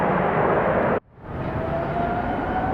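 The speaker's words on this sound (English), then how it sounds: "sounds like there's a large airplane taking off over there" A large airliner takes off at Atlanta Hartsfield airport as a broad, steady engine roar. The roar cuts out abruptly after a second, then returns slightly softer with a faint whine.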